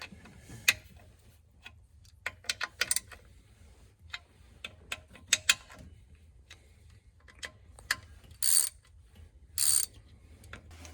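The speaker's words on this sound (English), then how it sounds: "When you're going to tighten your cam down, I recommend you tighten it down in a crisscross pattern" A ratchet tightens camshaft bolts on a Honda Pioneer 700 in a crisscross pattern, giving scattered sharp clicks and ticks, then two brief denser bursts of ratcheting near the end, with no talking.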